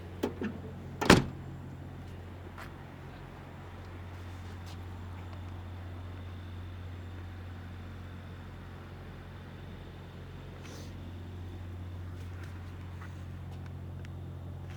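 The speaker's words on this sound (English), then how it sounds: "Let me close the driver door here." A single solid thump of the driver door of a 1970 Plymouth Fury Sport Suburban shutting near the start, followed by a long stretch of low steady hum and faint rustles.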